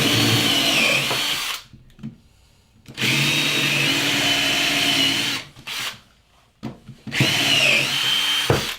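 A power drill countersinks and drives 50mm screws through wood racking into a wall stud, three loud sustained whirring bursts separated by short quiet gaps, close up with no talking.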